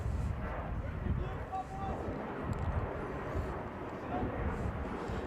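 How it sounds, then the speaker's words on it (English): Airplanes taking off near a high school soccer match between El Segundo and Culver City, a continuous loud low jet roar filling the background throughout. "Just like these planes are taking off in the background"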